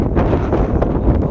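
Strong gusting wind ahead of a storm in a village, roaring steadily and loudly into the microphone for a moment with rushing, buffeting noise and no speech.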